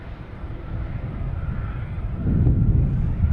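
An airliner's engine rumbles steadily after start-up at Boston Logan Airport, a low, continuous roar that swells slightly louder partway through with wind buffeting the microphone.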